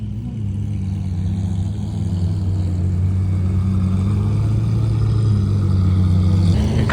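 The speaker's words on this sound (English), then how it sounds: "A couple nice V12s rolling in." A pair of V12 supercars, among them a Lamborghini Aventador wearing a Liberty Walk Silhouette Evo kit, roll past on a Tokyo street with a loud, steady low engine drone that holds throughout.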